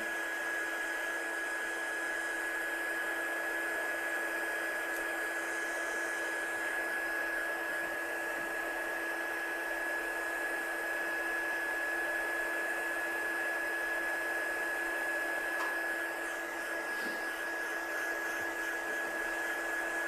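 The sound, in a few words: heat gun drying ink on a handmade card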